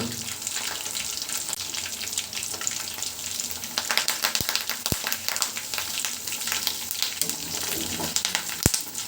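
Curry leaves sprinkled over freshly fried chicken 65 sizzle in hot oil, a steady close, dense crackling hiss throughout, punctuated by a few sharp clicks, without any voices.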